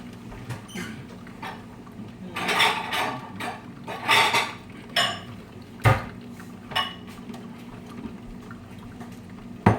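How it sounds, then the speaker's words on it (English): Two mixing bowls being fetched in a home kitchen before making pancakes, a string of clattering knocks and clinks of bowls and utensils, some sharp, close and alone. "I'm gonna go get 2 bowls"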